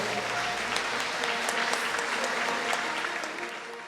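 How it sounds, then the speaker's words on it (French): A room full of people applauds steadily at an innovation award ceremony, a dense and loud wash of clapping that begins to fade near the end. "Merci de les applaudir."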